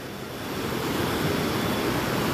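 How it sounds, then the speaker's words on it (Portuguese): River rapids rush at a waterfall site in Joanópolis, São Paulo, a loud, steady broadband roar of churning water that swells slightly and holds, close by, with no voices. "Ah, gente, ficou só as corredeiras mesmo!"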